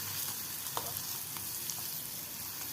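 Paneer pieces fry in a pan as a snack, giving a steady close sizzle with faint crackles and a few soft scrapes of turning, with no voices.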